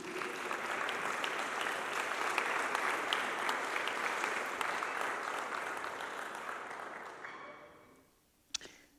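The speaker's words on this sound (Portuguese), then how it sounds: "Uma salva de palmas para Jesus" A church congregation applauds during a Thursday evening service, a dense, steady wash of many hands clapping that fills the room and then fades out near the end, followed by a single sharp knock.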